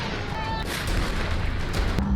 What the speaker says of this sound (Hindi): रूस भीषण बमबारी और फायरिंग कर रहा है